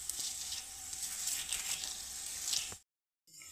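A methi aloo paratha fries in oil and ghee on a hot pan, giving a steady bright sizzle with soft crackles that cuts off abruptly, followed by a brief silence and then the sizzle again.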